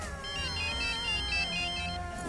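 An electronic phone ringtone repeats its short melodic pattern several times, fairly clear over faint background noise, with nobody answering or speaking.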